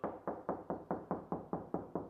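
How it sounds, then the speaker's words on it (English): Knuckles knocking on a 5/8 sheetrock wall to find a stud, ten evenly spaced hollow knocks in a steady rhythm, close and fairly quiet with no talk. "knock until you find a stud"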